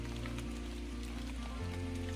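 Steady rain falls outdoors at a backpacking camp in January, a continuous soft patter over a low background hum, with no talking.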